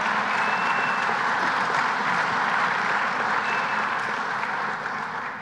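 A large audience at a Building Trades Employers' Association event applauds a Port Authority color guard, a dense sustained wash of many hands clapping at steady volume that tapers slightly at the end.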